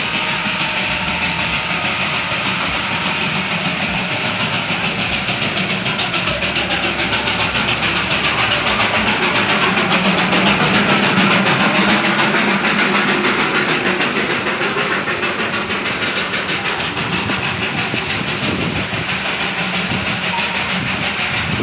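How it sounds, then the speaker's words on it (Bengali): Darjeeling toy train drawing near on its narrow-gauge rails, a steady loud rumble with hissing and faint clatter that swells slightly mid-way and holds for about twenty seconds with no voices. "ওই যে একটা টয় ট্রেন আসছে দেখুন"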